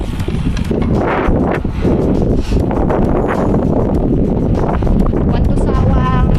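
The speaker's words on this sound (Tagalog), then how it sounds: "Ito ang mahangin na lugar." Strong wind buffeting the microphone while cycling through an open, windy stretch of countryside on Belgian bike paths, a loud continuous roar with gusty swells.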